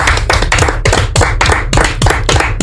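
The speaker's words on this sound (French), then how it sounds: "Allez, applaudissements pour eux." A studio audience claps in a quick run of sharp, crisp hand bursts, close and loud, with no one speaking over it.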